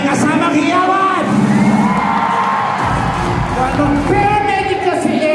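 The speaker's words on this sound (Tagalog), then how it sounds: "Para makarinig kami ng palakpakan na may kasamang hiyawan!" A crowd at a live entertainment event in Tiaong, Quezon cheers, whoops and yells loudly, with shouting voices rising and falling over continuous crowd noise.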